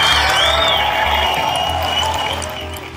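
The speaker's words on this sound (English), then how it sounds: "the applause just went on and on and on forever" A large audience at a product launch applauds and cheers for the first iPhone, sustained loud clapping with whoops that stays dense and gradually eases off toward the end.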